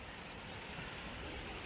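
Deep floodwater surging with a powerful current along a flooded third street in Kembalabad, a steady loud broadband rush with no break, heard close with no voices.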